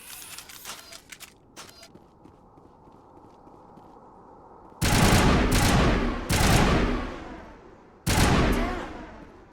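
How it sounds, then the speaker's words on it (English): Sniper rifle shots from the Mass Effect video game boom out three times, loud and heavy with long reverberating tails, after a stretch of quieter clicks and footsteps. "let's go with sniper rifles"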